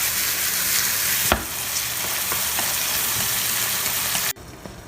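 Soy sauce sizzles and crackles loudly in a hot pan while a cold noodle sauce is made, a steady frying hiss with a sharp burst near the start that cuts off abruptly near the end.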